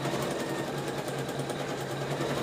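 A small sewing machine runs steadily, stitching a pumpkin design in a rapid, even mechanical whir that continues without a break and without talk.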